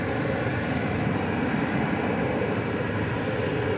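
An airliner arriving at DFW Airport on a flight from Wichita, Kansas, produces a continuous broad engine roar with no breaks or clear peaks across the span.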